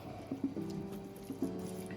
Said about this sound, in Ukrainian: Спочатку розминаємо виделочкою шпроти